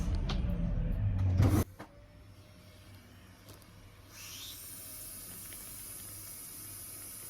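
A vacuum cleaner draws air out of a plastic clothes storage bag holding folded winter clothes, a loud rumbling motor burst at first, then a steady thinner hiss and whine as the bag empties.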